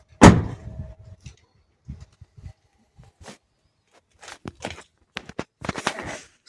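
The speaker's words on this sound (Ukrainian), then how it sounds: "двері закриваються" A car door on a Skoda Enyaq iV80 electric SUV shuts with a single loud, close thump at the start, followed by scattered quieter knocks and rustles as things are moved around inside the car.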